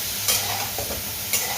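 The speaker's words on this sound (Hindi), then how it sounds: "तो हम इसमें झिंगली डाल रहे हैं।" Ridge gourd tossed into a hot pan with green chillies and stirred, giving a steady close sizzle of frying with a couple of brief scraping stir sounds, no voices.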